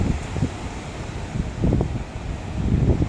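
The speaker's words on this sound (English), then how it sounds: "A lot of wind." Hurricane Ian's strong wind roars and buffets the microphone in heavy low gusts that swell and ease, with leaves rustling, loud and continuous with no voices.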